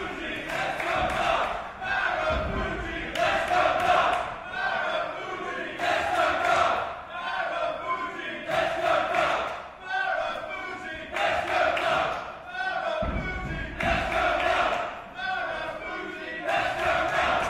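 A wrestling crowd at an IPW event cheers and chants in rhythmic waves, loud bursts of massed voices rising and falling in a repeating pattern across the arena.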